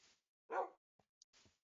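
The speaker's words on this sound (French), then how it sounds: "Oh, il y a des chiens!" Dogs in the Minecraft video game yip and bark in a few short, separate bursts with one louder bark in the middle, faint and clipped, with silent gaps between.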